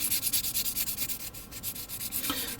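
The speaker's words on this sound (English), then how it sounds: "I'm sanding down the remaining putty that was drying up here" Close, rhythmic scratchy rubbing of sandpaper over dried putty on a plastic Gundam model kit, steady back-and-forth strokes repeating for a few seconds with no voices.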